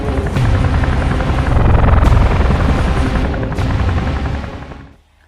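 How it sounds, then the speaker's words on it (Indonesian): A film helicopter arrives for a pickup during a chase, with loud, close rotor thumping that swells and holds steady, then cuts off abruptly, while sharp gunfire-like cracks punctuate the roar. "sebuah helikopter datang menjemput lalu melanjutkan pengejaran"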